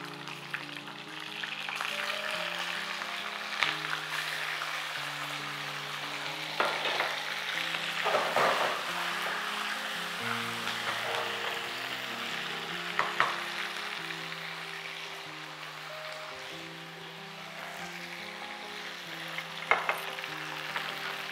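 Chicken for nawabi korma fries in oil with browned onions, a continuous loud sizzle with scraping stirring strokes, close up and with no talking.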